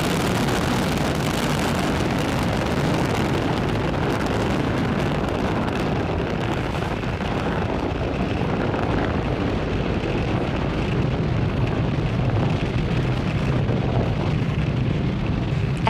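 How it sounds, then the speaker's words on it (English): A SpaceX Falcon 9 rocket lifts off from Pad 40 at Cape Canaveral Space Force Station, a sustained, loud low roar with crackling rumble and buffeting wind noise that persists steadily for the whole stretch, no voices present. "Falcon 9 has successfully lifted off from Pad 40 at Cape Canaveral Space Force Station, carrying the Merah Putih 2 payload"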